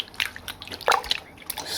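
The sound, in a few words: vintage mermaid dolls rinsed under running water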